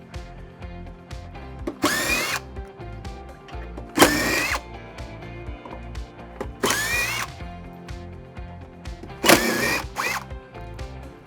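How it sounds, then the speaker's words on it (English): Power drill backing long screws out of the subfascia on a Dynamax Europa RV slide, four loud bursts of a couple of seconds each, spaced evenly apart over a steady low background hum. "Next, we'll be removing the screws that secure the subfascia to the slide"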